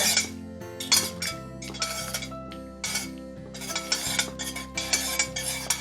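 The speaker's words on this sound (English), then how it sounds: "Stirring it really helps melt it faster." Spoon clinking against a glass container while melting lip balm ingredients are stirred, in a quick irregular rhythm of bright taps over a steady low hum; no speech.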